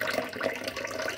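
Water running from a tap for a baby lovebird's first bath, a steady close splashing flow that holds evenly throughout.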